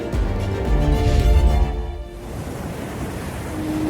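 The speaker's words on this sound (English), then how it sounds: "We listen to the ocean" Ocean waves surging and washing in, loud and broad at first, then settling into a steadier, softer wash with no voices.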